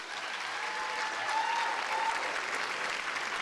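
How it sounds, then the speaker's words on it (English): Audience applause for a preschool teacher receiving a Teacher of the Year award, a steady, even clapping from a seated crowd that holds throughout. "Let's give Miss Candy one more round of applause."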